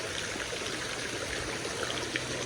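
Steady rushing and trickling of water pouring into a swimming pool, a continuous even wash of sound with no voices.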